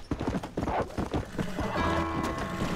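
Horse hooves clip-clopping in the video game Red Dead Redemption, a quick rhythmic run of close hoofbeats followed by a horse's whinny.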